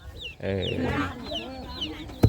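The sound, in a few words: chickens clucking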